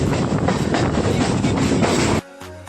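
A loud, steady rumble of a moving train rolls on for a couple of seconds, then cuts off abruptly into quieter background hum.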